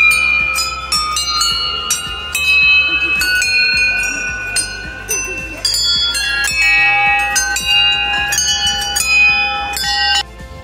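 Many temple bells ring continuously at a Shiva temple in Lansdowne, overlapping bright metallic clangs struck in quick irregular succession, loud and close, with a crowd murmuring faintly beneath.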